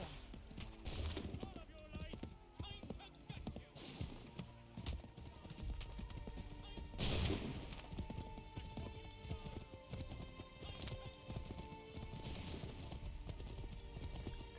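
Horse hooves clip-clop steadily in the video game Assassin's Creed III, a dense rhythmic patter under busy game music and effects, with a voice speaking over it and the odd whinny.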